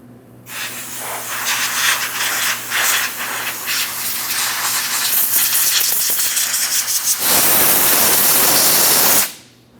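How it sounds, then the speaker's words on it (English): Compressed air blasts debris off the top of a fuel tank on a 2008-2016 Chrysler Town & Country 3.8L, a loud continuous hiss in several bursts that builds to a harsh full-strength rush before cutting off sharply. "I'm going to use some compressed air."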